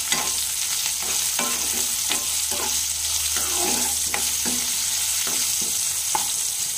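Eggplant frying in oil in a pan, stirred with a utensil: a steady sizzle runs underneath while repeated scraping strokes clatter at an irregular rhythm, close and fairly clear.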